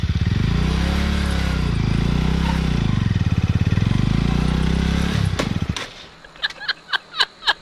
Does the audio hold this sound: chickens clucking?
no